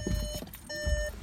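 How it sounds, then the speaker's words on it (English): Two short electronic beeps from a 2016 VW Sportwagen with keyless entry sound close by, evenly spaced, over quiet background noise. "I'll talk about that beeping later."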